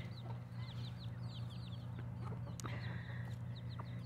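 Molting chickens cluck softly and steadily nearby while eating scrambled eggs, over a constant low hum, with a few sharper calls and a brief clatter partway through.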